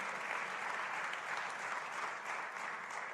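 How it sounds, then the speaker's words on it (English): Steady applause from an audience at a USDA Ag Day event, a dense continuous wash of clapping held at an even level throughout, with no voices breaking through. "Welcome, big round of applause."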